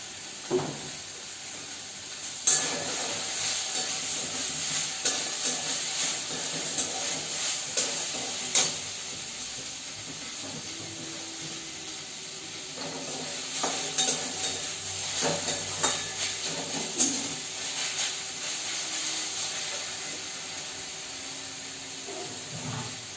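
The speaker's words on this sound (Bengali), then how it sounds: "এখানে শাক ভাজাটা আমার হয়ে গেছে" Leafy greens stir-frying in a pan with a steady hiss and sizzle throughout, broken by occasional scraping stirs and light clinks of the spatula, close and continuous with no voices.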